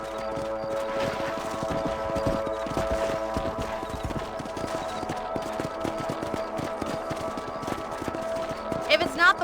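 Horse hooves clip-clop steadily in Red Dead Redemption, a rhythmic clatter of strides heard throughout under game music and a voice talking.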